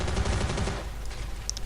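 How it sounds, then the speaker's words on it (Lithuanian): Rapid automatic gunfire rattles loudly in a Call of Duty Modern Warfare mission, a dense burst that stops partway through and gives way to quieter ambience with faint distant pings. "Na, aišku, yra šaudo."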